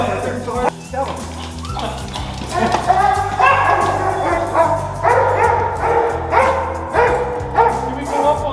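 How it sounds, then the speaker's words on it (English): A police K9 dog barks repeatedly during close-quarter battle training, loud and near, in a fast irregular burst of sharp woofs, with shouted human voices and commotion mixed in around it. "Hey, K9, send that dog."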